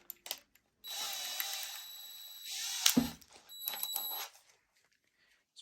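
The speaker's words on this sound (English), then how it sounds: "So I'm just going to drill into this edge, put a screw into it" A power drill whirs in two short bursts while boring into the edge of a wooden bird feeder board, with a clattering knock between them and quiet gaps before and after.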